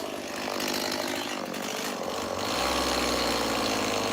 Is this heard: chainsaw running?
yes